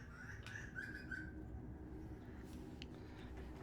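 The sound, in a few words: bird singing right outside the window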